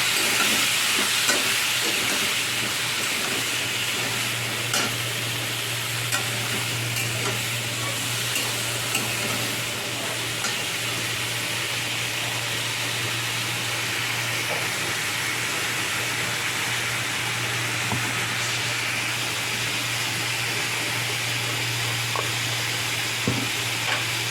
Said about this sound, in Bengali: ভালো করে এবার নেড়ে নেবো